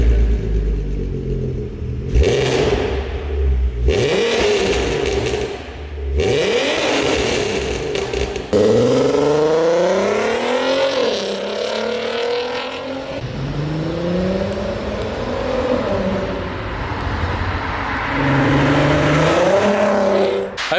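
An Audi TT engine with a newly finished exhaust revs loudly and close by, swelling and falling through several throttle blips and longer pulls, its tone smooth and less raspy, with no talking.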